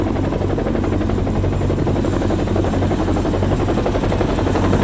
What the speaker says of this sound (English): Looks like a Chinook.